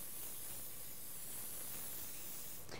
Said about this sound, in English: give it a little mist with some organic olive oil spray